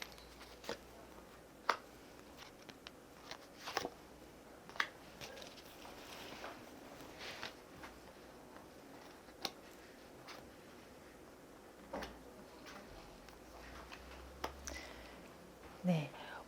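Tarot cards are drawn and handled close by, with scattered soft ticks, slides and light taps spread irregularly through a quiet room, faint and intermittent.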